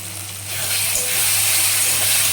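Spicy Bombay duck fish curry fries with chili powder and green chilies, a loud close hiss of sizzling oil that swells after a brief quieter start and then holds steady.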